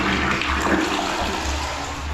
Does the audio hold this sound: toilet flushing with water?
yes